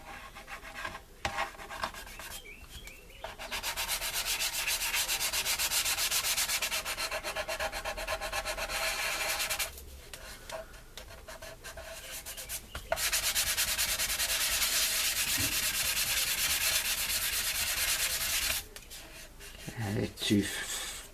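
Sandpaper rubbing over a model starship hull before priming, in long close bursts of raspy scratching separated by short pauses, with a voice talking in the gaps.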